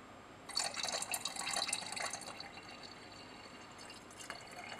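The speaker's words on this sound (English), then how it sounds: "We next measured out 100 ml of water, and added this to the flask along with the dark organic layer." Water measured out in a lab is poured into a flask holding a dark organic layer from phenol nitration, a soft, close trickling splash lasting a couple of seconds, then quieter dripping.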